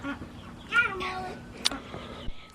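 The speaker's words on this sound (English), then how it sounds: "cat just tore through here" A cat meows in a cottage garden, a few short calls close by, with faint background sounds.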